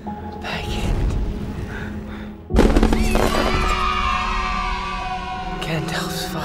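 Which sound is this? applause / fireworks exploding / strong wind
fireworks exploding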